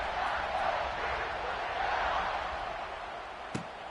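A stadium crowd in the NCAA 26 college football video game sends up a steady, dense roar throughout, with one brief sharp thud near the end and a commentator talking over it.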